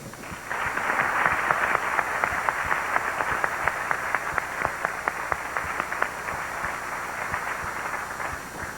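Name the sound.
audience applause at Miss Illinois pageant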